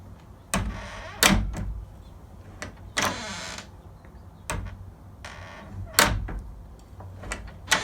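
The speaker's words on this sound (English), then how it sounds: "So let's go ahead and open and close the door." A car door is opened and shut repeatedly after its latch and locks are serviced, with about half a dozen sharp latching thumps and clicks spaced a second or so apart, plus faint hinge noise between them.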